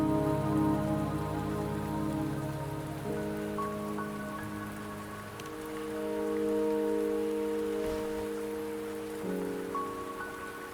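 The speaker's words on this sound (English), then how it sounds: "the rain won't last much longer" Steady rain pours over the world of the video game Wuthering Waves, a continuous hiss that sits beneath sustained, layered music tones throughout.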